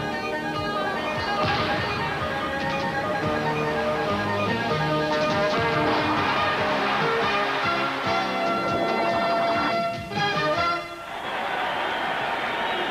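A capacity basketball crowd fills Georgia Tech's Alexander Memorial Coliseum in Atlanta at a 1986 Duke versus Georgia Tech game, a dense, steady roar of cheering and noise that swells and dips slightly, without a break.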